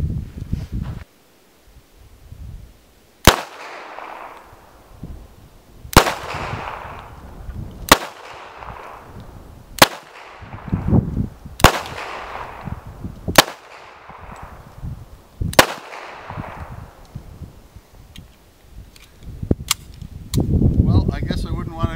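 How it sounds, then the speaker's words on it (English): A 1918 .45 ACP pistol firing 96-year-old ammunition outdoors: about nine loud, sharp reports spaced a couple of seconds apart, each followed by a fading echo, with a voice speaking between some of the shots. "I'm going to take a few shots and see if this stuff still works"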